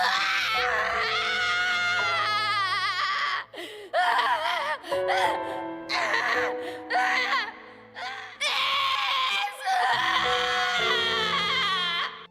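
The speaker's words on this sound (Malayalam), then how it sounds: "ലൂഫി ചങ്ക് പൊട്ടി നിലവിളിച്ച് കരയുന്നു" Luffy, the One Piece anime character, wails and sobs loudly during the Summit War saga. The cries are long, strained and high-pitched, broken by short gasping pauses over about twelve seconds.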